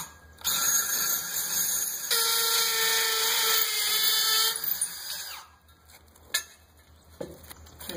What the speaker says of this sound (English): This one I'm going to go ahead and drill this one down here.